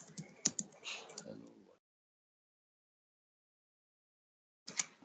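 Quick bursts of keystrokes on a computer keyboard as code is typed, close and quiet, with a silent pause before a short final flurry of clicks.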